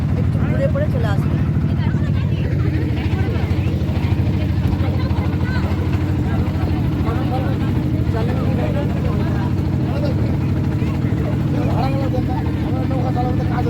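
A motor boat carrying many passengers on the Padma river at Sagarpara, Jalangi, its engine a loud, unbroken droning rumble close by, with people talking over it.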